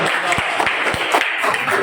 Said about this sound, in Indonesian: Oke, tepuk tangan untuk kelompoknya kamu.